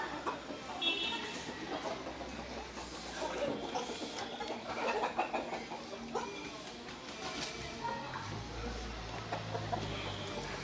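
An Indian game rooster, still growing into its adult feathers, clucks amid a busy, noisy yard background, with a voice faintly present at times.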